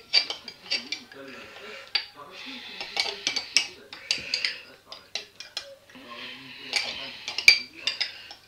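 A metal spoon clinks and scrapes against a jar and kitchen dishes, with irregular close taps and clatter spread across the stretch, with someone talking at times.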